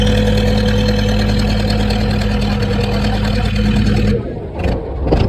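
A boat engine drones steadily and loudly during a river crossing to Mayapur ghat, with a low, even hum that cuts off abruptly near the end.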